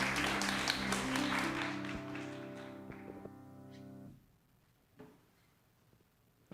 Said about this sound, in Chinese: 我们拍手欢迎葛牧师